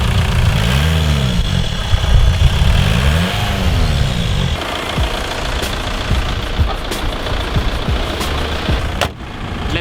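A V12 car engine revs up in two rising sweeps, then settles into a rough steady running drone with a few sharp knocks, loud and close.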